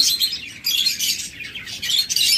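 Two lovebirds, offered for sale as a pair, chirp in quick, high, shrill bursts, several rapid tweets in close succession with short gaps between, loud and near, with no voices.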